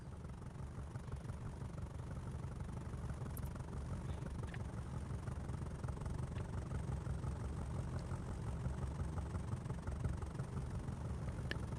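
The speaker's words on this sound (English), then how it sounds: "What's making tractor noises?" A tractor engine idles with a constant low, throbbing rumble that holds steady and moderately loud throughout, with no voices.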